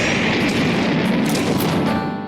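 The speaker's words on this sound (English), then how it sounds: "Born explosion, so they explode if I kill them." Enemies burst apart in the video game Faraway Story, a loud, dense rumble of explosion blasts filling the moment and tailing off at the end.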